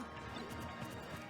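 A forward smash attack lands on players in a Super Smash Bros doubles tournament match, a quick crash-like hit amid the steady game and crowd noise, fairly faint throughout.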